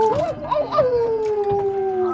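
Werewolf-like creatures let out a long, wavering howl, close and prominent, with several rising and falling yelps before one sustained, slowly descending note.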